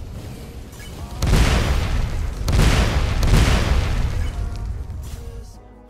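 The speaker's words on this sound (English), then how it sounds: "Explosions." Several deep, booming explosions in quick succession in the game Anime World Tower Defense, loud and close, with rumbling tails that blend into one another before fading out.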